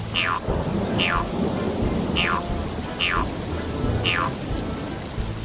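Cartoon rain falls from a small cloud in a Peppa Pig garden scene as a steady hissing patter, punctuated by five evenly spaced descending whistly chirps.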